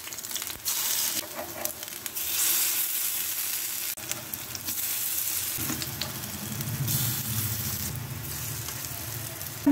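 Soft pumpkin fritters frying in hot oil and gently turned over, a loud steady sizzle and crackle close by, with brief dips and faint scraping as pieces are moved; nobody speaks.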